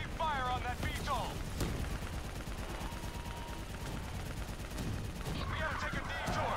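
Gunfire in Call of Duty: Black Ops III, a dense, continuous barrage of shots under a VTOL attack, with voices calling out across the whole stretch amid battle noise.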